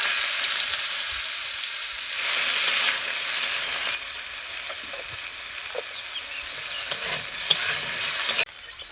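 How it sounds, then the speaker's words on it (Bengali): Potatoes frying in hot oil, a loud continuous dense sizzle close by with occasional faint clicks of stirring, no talk. "আমি এবার আলুগুলো ভেজে নেব।"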